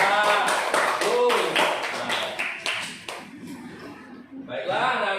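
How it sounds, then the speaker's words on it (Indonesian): Students in a classroom clap in quick rhythmic bursts, with children's voices chanting along, before the sound tapers off and the voices pick up again briefly at the end. "Beri tepuk tangan dulu."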